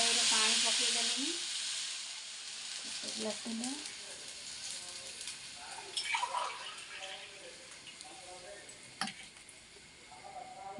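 Water poured into a hot wok of melted sugar bursts into a loud sizzle that gradually fades to bubbling and stirring, with a person talking over it.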